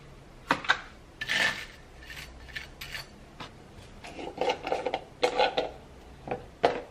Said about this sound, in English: So you put the butter on, and it melts into the bread because it's hot.